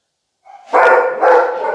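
Dogs barking outdoors in a secluded rural area of Texas, a short burst of two loud, close barks following a brief low whine.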